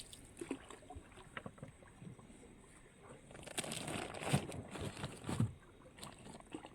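A small boat moving on water at night during a crab-catching trip near rocks, with soft paddling and water swishes that swell louder toward the end, some faint knocks and wind noise.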